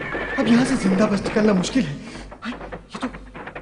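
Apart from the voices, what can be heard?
horse neighing and hoofbeats, animated film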